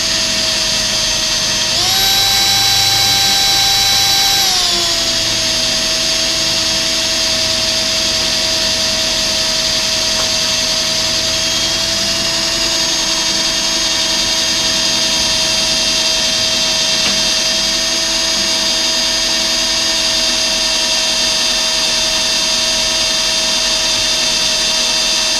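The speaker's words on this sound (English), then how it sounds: "These are my pilot holes to start with, and then I'll make the bigger hole." A power drill bores half-inch pilot holes into a steel Kubota LX2610 tractor bucket, giving a steady high whine that holds for about twenty-five seconds, with a brief louder, higher burst near the start.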